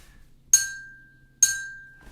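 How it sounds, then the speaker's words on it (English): A pen taps a drinking glass twice, each strike a bright ringing clink that lingers and fades, evenly spaced with nothing else around it. "I'm just going to tap the beat on the glass with a pen"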